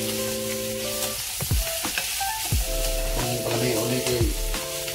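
Food sizzles and fries steadily in a pan throughout, a close, continuous hiss broken by a few knocks and scrapes of stirring.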